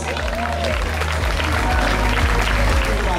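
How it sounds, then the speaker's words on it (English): Crowd applause for the prize winners at a freestyle pro slalom prize giving in the Caribbean, dense clapping from many people with crowd noise and voices mixed in. "Okay, a big applause for the guys."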